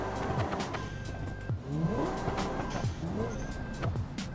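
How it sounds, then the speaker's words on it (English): Car engine in the Automation video game accelerating and shifting gears, a steady loud revving drone with pitch sweeps rising and dropping at each gear change, plus faint tire noise, continuous throughout. "And it's changing gear perfectly fine."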